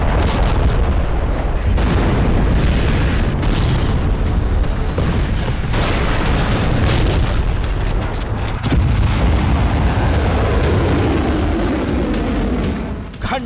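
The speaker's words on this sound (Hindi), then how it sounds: "जमीन फाड़ देने वाले विस्फोट" Powerful explosions boom repeatedly and loudly, one blast overlapping the next in a dense, rumbling barrage that continues without pause.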